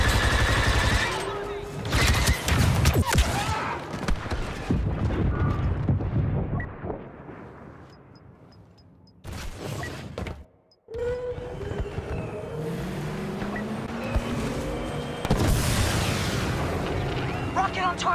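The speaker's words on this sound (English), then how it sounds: "Rocket on target! Walker damaged!" Rocket explosions striking a walker during a Galactic Assault on Endor in Star Wars Battlefront 2, dense rumbling blasts and gunfire layered with game voices, a brief lull, then renewed heavy battle noise.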